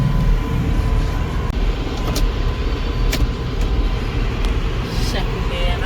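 A Massey Ferguson tractor driving in second gear with the mower running, heard as a steady, loud low engine rumble that holds constant across the clip. A few faint higher clanks come through the drone, and a muffled voice may be present.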